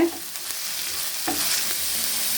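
Steady oily sizzling of ginger-garlic paste and curry leaves frying in a pan, with occasional scraping stirs of a spoon, close up and continuous.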